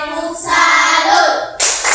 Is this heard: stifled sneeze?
no